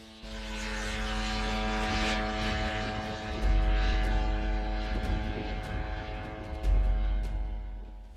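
An RQ-7B Shadow military surveillance drone flies overhead, its propeller engine giving a steady, loud, buzzing drone that holds for the whole stretch and briefly swells twice, with no voices.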